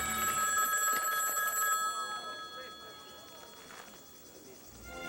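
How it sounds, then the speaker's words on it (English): A telephone rings with bright, sustained bell tones that fade across the few seconds, over a soft, hissy background. "the legend of the ringing phone would never end."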